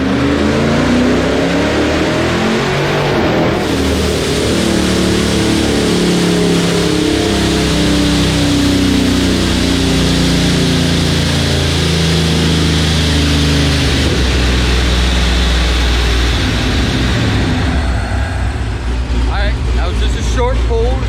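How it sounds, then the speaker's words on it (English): A 392 (6.4-liter) Hemi V8 with a Holley Dominator roars loudly on a dyno pull, its steady, heavy drone climbing in pitch before easing off near the end. "But we're back on the dyno. Here comes the first pull."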